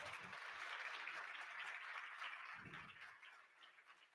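Applause from a large audience at the opening ceremony of the 43rd World Scout Conference in Cairo, a continuous wash of clapping that stays fairly even, then eases slightly toward the end, heard from a distance.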